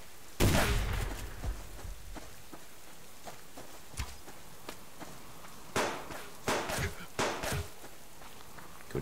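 Gunshots in the survival video game Subsistence, several sharp cracks scattered unevenly over steady rain-like background noise, loudest at the start and then in a quick cluster later on.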